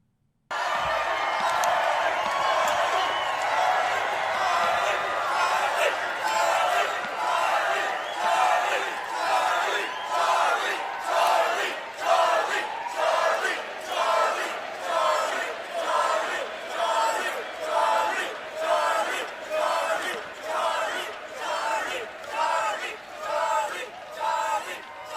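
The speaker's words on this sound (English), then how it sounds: "just to give you a small sample of just how raucous this crowd was at Montana State University" A raucous crowd at Montana State University chants in unison, a loud rhythmic shout repeated roughly every second, building steadily after a brief silent start and swelling with cheering underneath.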